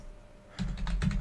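A few keystrokes typed on a computer keyboard at a PC command line, starting after a brief quiet moment and continuing as a short burst of close, crisp clicks.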